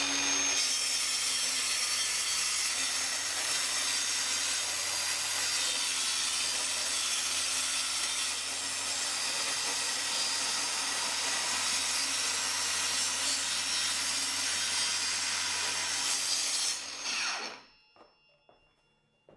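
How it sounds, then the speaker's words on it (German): A Bosch GKT 18V-52 GC cordless plunge saw cuts a kitchen worktop along a guide rail, a steady loud whining buzz of blade through wood lasting about seventeen seconds before spinning down abruptly to near silence. "legen die Schiene an und sägen hier einmal lang"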